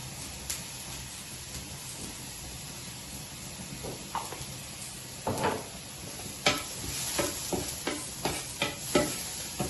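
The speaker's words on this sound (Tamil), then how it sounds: "சிறிது நேரம் இது வதங்கட்டும்." Mustard seeds and fennel sizzle softly in a hot pan while a spoon stirs and scrapes them, the scraping strokes growing louder and more frequent toward the end.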